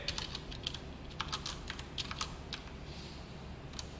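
Quiet typing on a computer keyboard while writing Python code, with a quick irregular run of soft key clicks over a faint steady background hum.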